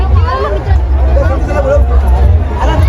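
Dense crowd babble and chatter at a Raibadevi yatra festival celebration, loud and continuous, with many overlapping voices close by.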